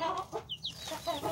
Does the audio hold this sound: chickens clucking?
yes